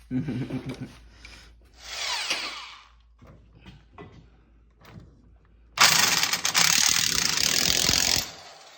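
An impact wrench works on a part underneath a 1928 Ford Model A. Scattered clicks and rattles come first, then a loud sustained burst of hammering lasts about two seconds.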